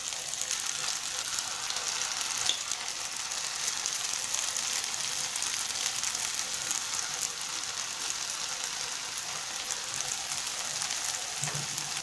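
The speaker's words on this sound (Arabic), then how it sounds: "بالنسبه للمرحله ديال القلي فهي مهمه، خصنا يعني نحاولوا ما نحرقوش الحبات، لهذا نقلبوهم" Potato pieces frying in hot oil make a steady, dense sizzling hiss that fills the whole stretch at an even level, with no pause and no one talking.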